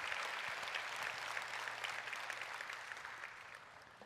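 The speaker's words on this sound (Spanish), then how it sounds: "le damos un fuerte aplauso" A church congregation clapping after a sermon, a dense patter of applause that gradually fades over several seconds.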